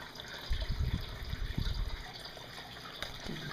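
Water flowing in an aquaponics shrimp tank set up in a tote indoors: a steady, gurgling rush of pouring water with bursts of splashing, close and continuous.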